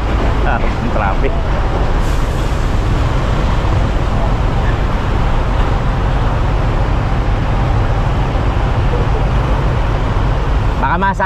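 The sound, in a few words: road traffic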